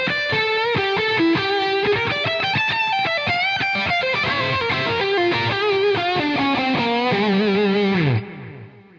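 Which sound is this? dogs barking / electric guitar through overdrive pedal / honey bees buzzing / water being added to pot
electric guitar through overdrive pedal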